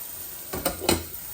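Faint steady sizzle of fish frying in a pan, broken by two quick scraping stirs in the middle.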